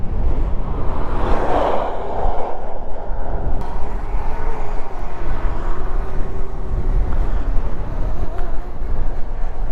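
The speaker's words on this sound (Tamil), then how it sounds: "ட்ரோன் பறக்குது." A drone flies in heavy wind near Dhanushkodi, its rotor whine and a steady roar of wind buffeting the microphone filling the scene, loud and continuous, with a faint voice briefly in the background.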